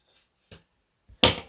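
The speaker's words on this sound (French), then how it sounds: "on commence par couper environ une quinzaine de centimètres du fil de fer" Scissors cutting iron wire, a few sharp isolated snips close up, the last one loudest, with silence between them and no talk.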